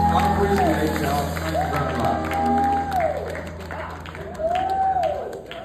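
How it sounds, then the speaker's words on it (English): Audience applause for a singer after a pretty song, a steady wash of clapping from a crowd with a sustained tone and talk running underneath. "Give him a big round of applause singing for us tonight."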